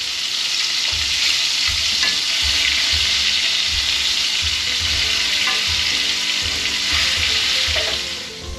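Chicken nuggets frying in grease in several pans, a loud steady crackling sizzle holding throughout with small pops and occasional stirring, no talking.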